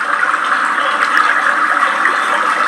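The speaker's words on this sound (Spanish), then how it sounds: "Agua, río," Continuous rushing water like a river flowing over rocks in a natural setting, a loud, steady broadband wash with no breaks, close and alone without any voices.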